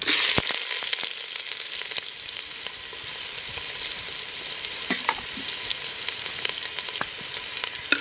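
Onion and curry leaves go into hot oil with mustard seeds for a tempering. A loud, continuous sizzle holds throughout, with frequent crackles and pops up close and no voices.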